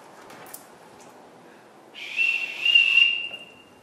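A shrill, high whistle sounds for about a second and a half after quiet, steady and piercing, then cuts off.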